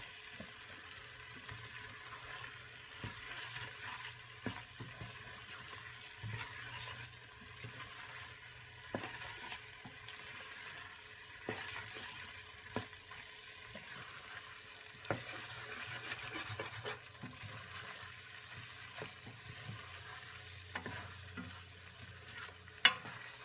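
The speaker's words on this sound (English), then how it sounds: "I'm just going to keep stirring it as it cooks." Buffalo chicken soup base stirred in a pot as it cooks, a quiet, steady background of scraping and faint bubbling with occasional soft clinks of the utensil, close and continuous with no voices.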